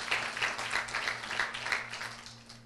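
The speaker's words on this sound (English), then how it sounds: "Let's give God a round of applause right now." A church congregation applauds, with a burst of many hands clapping in a quick rhythmic patter that stays fairly even and then tapers slightly toward the end.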